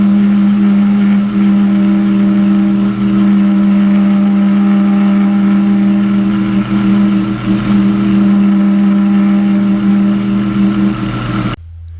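A machine turns steadily at 60 RPM while repairing a lawnmower axle support bracket, producing a loud, constant droning hum with a rough chattering texture that runs unbroken for about eleven seconds and then cuts off.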